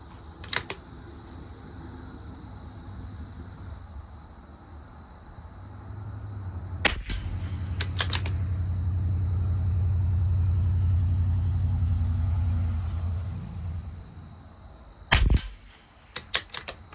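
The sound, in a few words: rifle shots, Tikka T1x with Aguila rimfire ammo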